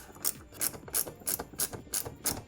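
Rhythmic ratcheting clicks, about seven evenly spaced bursts, as a mud flap bracket screw on a 2019–2024 Toyota Corolla E210 hatchback is tightened; close and clear with no voices.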